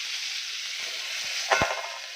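Steady sizzling of tomatoes frying over low heat in a pan, with a brief clatter of stirring near the end.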